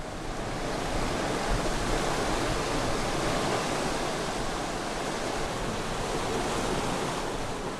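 Rough sea surf off the Jeju coast near Onpyeong-ri, as women divers head out through heavy waves: a loud, continuous wash of breaking waves and churning water that fills the whole clip with no voices.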